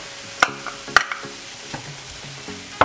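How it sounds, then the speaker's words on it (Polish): Mushrooms and corn frying in a pan with garlic give a light, faint sizzle, broken by several sharp scraping stirs and clacks of a utensil against the pan. "Całość podsmażam do momentu, aż moja patelnia będzie zupełnie sucha."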